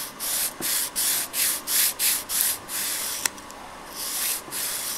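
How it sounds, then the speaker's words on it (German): Plaster parts for a model Vampisol Tillyschanze ski jump are sanded by hand, with about nine steady rhythmic scraping strokes, a short pause, then a few more close, dry rubbing passes. "Was übersteht, wird einfach abgeschliffen."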